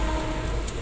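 Steady interior rumble of a moving passenger train travelling from Nilambur to Kollam in Kerala, a continuous even drone with no voices.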